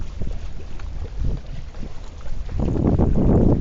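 Strong wind buffets the microphone in gusts, roaring louder toward the end with a low rushing rumble and no voices.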